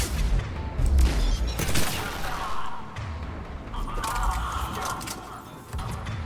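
Mass Effect 3 combat with scattered gunfire from a combat engineer, booming shots and thuds at moderate volume, while a player talks over the fight.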